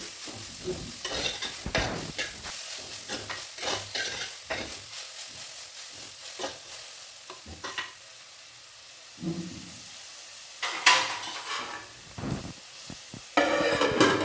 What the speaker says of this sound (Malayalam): നമ്മൾ മുറിച്ച് വെച്ച സവാള, ഒരു 2 സവാളയുണ്ട്, അത് ഞാൻ ഇട്ട് കൊടുത്ത്